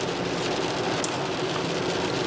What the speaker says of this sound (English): we have hit rain again